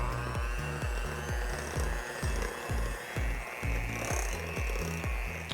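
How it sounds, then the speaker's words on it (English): Eggs are whisked into vanilla pound cake batter in a bowl with a steady, even rhythm of close, repeated strokes and no speech. "I'm going to be adding my eggs one at a time. And I'm going to go ahead and whisk after each addition."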